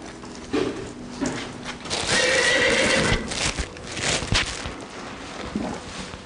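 A horse neighs loudly in a long whinny during a breeding session, with hoof clatter and shuffling around it in a stable setting.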